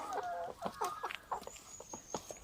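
Chickens cluck nearby in short, uneven bursts, with a faint high whine running through the background.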